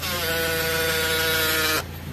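The retractable side mirror motor on a Honda Jazz RS GE8 is faulty and grinds with a harsh, steady, rattling buzz for nearly two seconds, close up, then cuts off abruptly.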